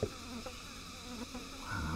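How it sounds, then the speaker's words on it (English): A continuous cicada buzz drones steadily in the background near Chiang Mai, Thailand, with a single short exclamation from a voice near the start. "You can hear the cicadas in the background."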